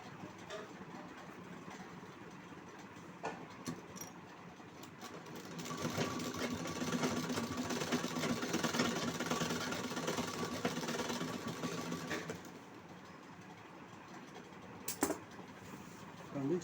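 A sewing machine stitches a blouse with a steady mechanical whir that grows louder and busier through the middle, then settles back to a quieter run.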